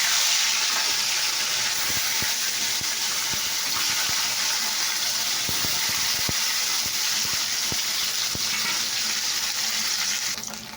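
Fish going into a hot pan of oil beside cauliflower in a home kitchen, giving a steady, loud, broadband hiss that runs unbroken with a few faint clinks.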